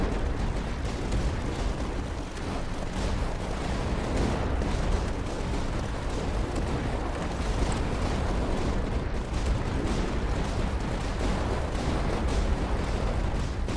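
Howitzers fire in the Tower Dominion strategy video game, producing a dense, continuous roar of overlapping booms and explosions that stays loud and fairly even throughout, with no talk over it.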